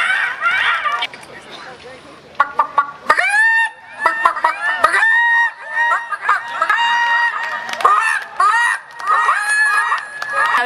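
In a clucking contest at an Alabama chicken and egg festival, a person imitates a chicken with loud, rapid, squawking clucks in bursts, heard up close over a murmuring crowd.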